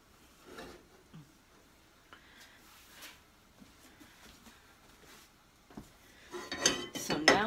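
A spoon stirs glaze for a Boston cream pie, making faint, scattered clinks and soft scrapes against a bowl that grow louder and busier toward the end.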